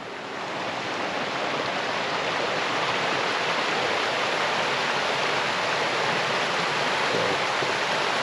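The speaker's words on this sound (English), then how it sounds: "Got the river running down there." A river runs below a wild camp on a farm, a constant broadband rush of flowing water, steady and fairly close, with no voices.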